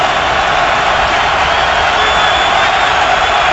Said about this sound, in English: Crowd rising as one